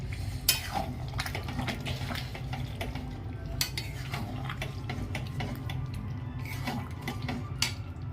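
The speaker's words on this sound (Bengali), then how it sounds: "আমি আলুটা এবার দিয়ে দেবো।" Half-boiled potatoes being stirred in a cooking pot, giving continuous wet scraping and clinking of a spoon against metal, with many small knocks over a low background hum and no talk.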